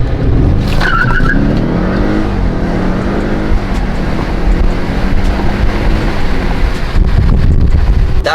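Audi S8 accelerating hard from a brake-boost launch: a loud, sustained engine roar with wind buffeting, the pitch climbing steadily as the car pulls away, close and continuous with no talk.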